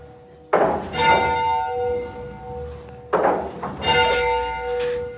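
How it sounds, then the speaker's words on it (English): Church bells ring in a castle bell tower, heard nearby in two loud bursts of clanging strikes, each leaving long ringing tones that hang and fade between peals. "ring the bells because there's no one else there at the top right now"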